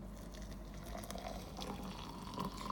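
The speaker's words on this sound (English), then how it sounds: "and then you add your boiling hot water" Boiling water poured onto ground coffee for an Americano, a steady soft liquid fill with faint dripping and splashing, close and quiet, with no talking.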